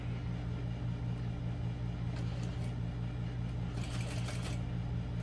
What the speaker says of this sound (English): I'm going to top stitch along each side of this seam, and this will just make the seam lay nice and flat